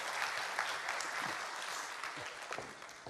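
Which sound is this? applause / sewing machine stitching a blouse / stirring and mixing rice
applause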